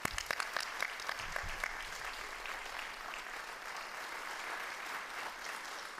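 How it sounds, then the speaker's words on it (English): Audience at a town hall meeting on gun violence and prevention claps steadily and loudly for several seconds, with a dense, sustained applause filling the room and no talking over it. "please join me in a round of applause"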